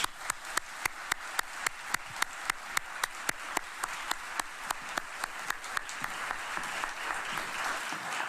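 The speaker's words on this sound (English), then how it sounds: "I'd just like to give everybody one last round of applause" A single sharp, rhythmic clap repeats at a steady beat over a continuous bed of crowd applause at a military awards ceremony, with the applause swelling and thickening toward the end.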